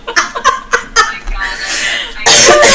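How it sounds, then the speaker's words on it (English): Close, loud bursts of coughing in quick succession, mixed with laughter and a little talk, ending in a long harsh fit. "I'll just keep coughing."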